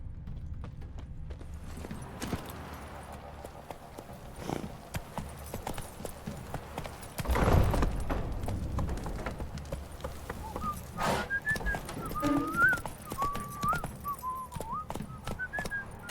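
The horse Roach clip-clops at a steady walking rhythm in The Witcher 3, joined by a brief heavier thud midway and a wavering whistled tune near the end.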